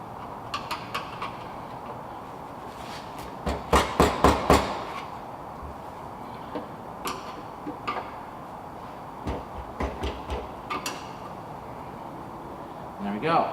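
A hammer taps the fuel pump retaining ring on a 1993 Ford F250, with scattered metallic knocks and a quick burst of several strikes in the middle, while someone talks.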